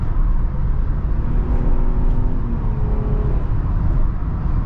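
Engine of a 2022 Nissan Murano V6 with CVT transmission accelerating on a test drive, heard from inside the cabin as a loud steady drone with a slowly rising tone.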